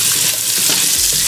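Vegetables sizzling and frying in a pan, a steady hiss with soft irregular crackles and occasional scraping as they are stirred, close and continuous.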